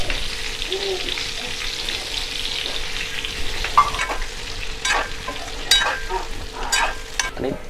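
Stuffed eggplants sautéing in oil, a continuous sizzle broken by sharp clinks and scrapes of a spatula against the pan, close and fairly loud with no speech.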